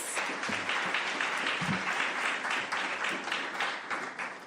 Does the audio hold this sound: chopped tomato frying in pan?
no